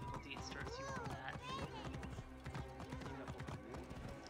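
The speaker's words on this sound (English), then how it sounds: "I should probably take the horse all the way inside" Hooves clip-clop steadily from a horse in Assassin's Creed Origins, a quick even rhythm running under game music and a voice talking throughout.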